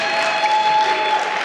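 An audience applauds steadily at a faith-themed Black history talk, with dense, continuous clapping from a crowd that holds at an even level throughout.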